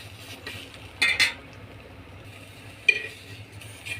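Dried fish is dry-roasted and stirred in a pan, giving a few sharp utensil clinks and scrapes against the metal in quiet surroundings, with long hushed gaps between them.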